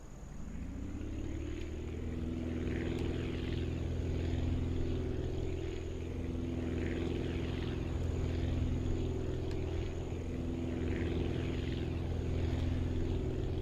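A small propeller plane in the video game Aviassembly runs up its engine, a steady droning hum that rises in pitch and holds at a constant level with no talk.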